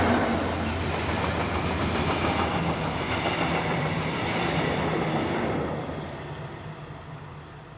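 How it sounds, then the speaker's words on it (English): A class 294 diesel locomotive hauls a steel freight train from Oberhausen to Rattingen West, rolling past as a steady rumble with rail clatter that fades as it moves away. "The loco is heading a steel trip working from Oberhausen to Rattingen West."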